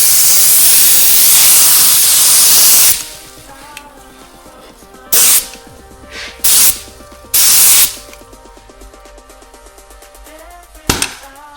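Air-drying smart repair clear coat sprayed onto a car panel outdoors: one long loud hiss, then several short close bursts of spray separated by quiet pauses, with a final brief puff.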